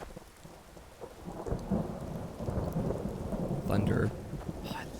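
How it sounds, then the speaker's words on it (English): Rain and rolling thunder in the video game Skyrim, heard quietly. Steady rainfall hisses in the background while a low thunder rumble swells in the middle and fades, with a brief higher sound near the end. "Thunder. Oh, I love the rain sound."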